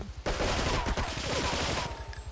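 Rapid bursts of gunfire from Grand Theft Auto 3, a modded version of the game, fill a dense, loud stretch of shooting before it trails off near the end.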